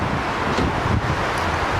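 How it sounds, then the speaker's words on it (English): Strong wind gusting across a backyard in Flagstaff, a steady loud rush buffeting the microphone for the whole moment, with no voices. "let me take you out into the backyard so you can see how windy it is today."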